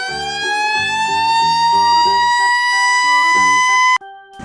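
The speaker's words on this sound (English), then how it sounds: "Red fire truck." A red toy fire truck sounds its siren, a loud, steady wailing tone over a rhythmic electronic tune, continuous for about four seconds before cutting off abruptly.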